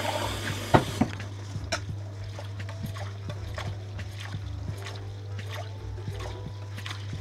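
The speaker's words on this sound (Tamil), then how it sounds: "இந்த உளுந்தை ஒருக்கா தண்ணி ஊற்றி கழுவுவோம்" Urad dal being washed by hand in a vessel of water, with steady splashy swishing and repeated soft clicks of grains and fingers against the pot over a constant low hum, close and moderately loud, with no talking.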